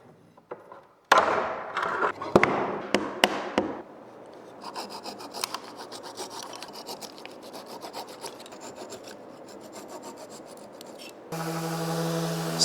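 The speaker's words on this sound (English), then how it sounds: "It's a gooseneck scraper, and I used it when I built my violin." A gooseneck scraper scrapes a wooden table surface in a run of close, sharp rasping strokes, several quick passes followed by a longer stretch of steady scraping, with a different rougher texture in the last second.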